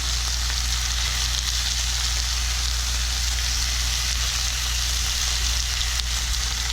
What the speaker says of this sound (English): So we're going to put the pork in the pan and we're going to add some salt.